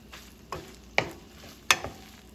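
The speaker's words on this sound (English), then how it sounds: "I'm gonna mix this real good until the peppers and the onions are sauteed." Peppers and onions stirred in a pan while sautéing, with three distinct scraping clatters of a utensil over a faint sizzle, close and fairly quiet.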